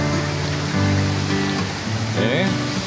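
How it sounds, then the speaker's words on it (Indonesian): Babbling water flows steadily near a villa in a foggy pine forest, a continuous close rushing wash with a person talking over it. "Nah, itu suara kemericik air."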